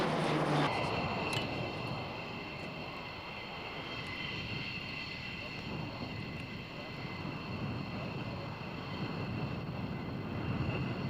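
A Hercules transport aircraft flies at the Mildenhall Air Fete 1997 air show, giving a loud, continuous engine drone with steady propeller hum that holds throughout.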